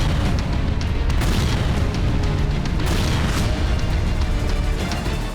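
Loud, sustained booming roars in a dense, distorted wash, as heavy explosions from an air bombardment over Rafah roll one into another without a break.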